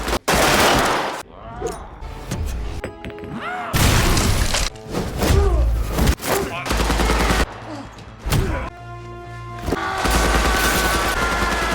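Film shootout as two men break in and open fire: loud bursts of gunfire and fusillades with booms, thuds and shattering, dense and chaotic across the scene, with brief gaps between volleys.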